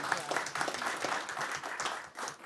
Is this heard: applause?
yes